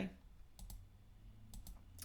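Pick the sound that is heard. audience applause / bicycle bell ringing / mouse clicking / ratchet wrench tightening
mouse clicking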